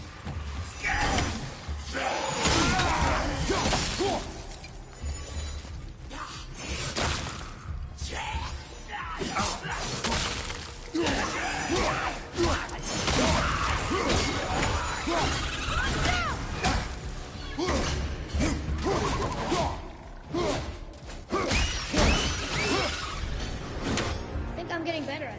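Objects shatter and crash in the video game God of War amid dense game sounds, with repeated smashing bursts and swooshes under a talking voice.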